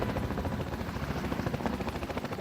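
A Black Hawk helicopter hovers overhead above an uncleared landing zone. Its rotor makes a steady loud throbbing wash with a fast regular beat that fills the whole stretch with no break.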